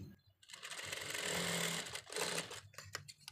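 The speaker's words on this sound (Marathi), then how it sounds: "इथे टिप टाकून घेतली की पॅक होतो कपडा" A sewing machine runs in one quick burst of rapid stitching as lace and a finishing tip are sewn onto fabric, close and fairly quiet, then stops amid faint handling sounds.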